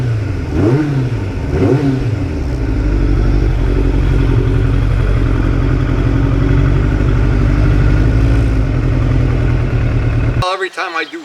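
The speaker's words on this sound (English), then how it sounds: "Every time I do ride the bike" A 1989 Kawasaki GPX750R motorcycle being ridden, its engine droning loud and steady with a couple of rev swells early on, wind rushing throughout, then cutting abruptly to a brief clattery noise at the end.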